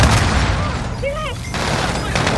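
Gunfire in the Call of Duty Modern Warfare video game, dense sustained bursts and booms filling the whole stretch, loud and continuous with a faint voice briefly audible in the mix.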